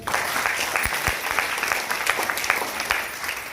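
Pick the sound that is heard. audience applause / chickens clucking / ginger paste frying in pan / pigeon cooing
audience applause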